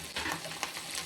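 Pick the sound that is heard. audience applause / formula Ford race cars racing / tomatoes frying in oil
tomatoes frying in oil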